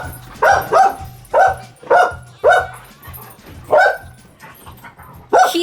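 A dog named Kilo, a puppy, barks and yips in a series of about seven sharp, loud barks close by, some doubled, with short gaps between them.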